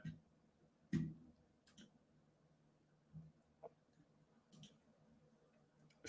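A computer mouse clicks the buy-now button during an online purchase, giving scattered, faint, close clicks, some in quick pairs, spread across a few seconds of near silence.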